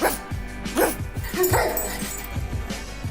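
A young woman imitates a dog, giving a string of sharp, yappy barks and whimpering yips in uneven bursts, close and fairly loud.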